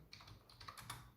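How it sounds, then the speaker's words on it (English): Fingers type on a computer keyboard in a quick, faint run of close key clicks lasting about a second, with no voices. "if I type one more text here"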